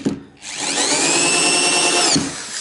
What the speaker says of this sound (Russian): Сверлим сверлом, смотрите.